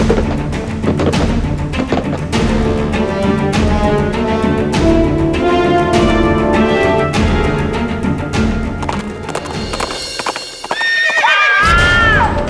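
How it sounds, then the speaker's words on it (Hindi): A horse walks with steady clip-clop hoof beats and snorts over a loud dramatic music score, ending with a high whinny near the close, inside a haveli in a Hindi courtroom drama. "हमने घोड़े के चलने की आवाज सुनी।"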